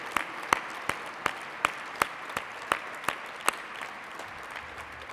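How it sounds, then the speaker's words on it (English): Steady rhythmic clapping at an annual dinner, a few sharp hand claps at an even pace, fairly quiet and close, with no voices. "can the rest of us just give them a big round of applause?"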